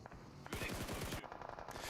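Rapid automatic gunfire bursts in a PUBG Mobile esports match at the World Cup, a dense volley of close shots starting after a brief lull, then continuing in quicker scattered rattles.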